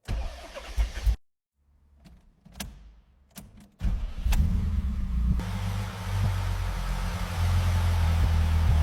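A restored BMW M1 E26 Procar with its M88 engine is heard through a few clatters and a short pause, then it fires and settles into a loud, steady, close idle.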